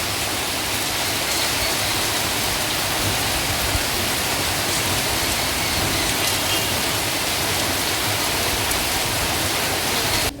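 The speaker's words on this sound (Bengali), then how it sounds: "গাছের ওপর বৃষ্টি পড়লে দেখতে কি ভালো লাগে না" Steady heavy rain pours down continuously on trees, a dense, even hiss of drops pattering on leaves and surfaces, fairly close and loud, with no voices.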